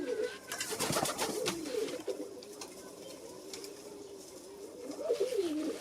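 Zamość pigeons coo in a loft, with soft, repeated rolling calls close by, mixed with rustling and a few sharper flutters, and no talk over them.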